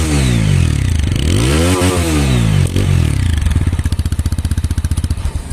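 A TVS Apache RTR 160 4V motorcycle exhaust revs loudly up and down close by, its pitch rising and falling in sweeping arcs before settling into a rapid, pulsing idle.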